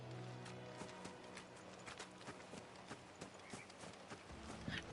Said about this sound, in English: Hold R3 while in the field to summon Ambrosia and next amount to Chocobo.